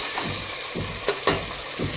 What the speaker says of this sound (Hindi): अब मैं दाल में तड़का लगाऊंगी